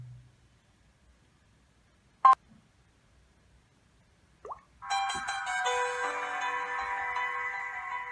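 A Samsung phone boots up: after a near-silent stretch there is a sharp click and a brief blip, then a bright, tonal startup jingle plays for about three seconds, moderately loud and alone.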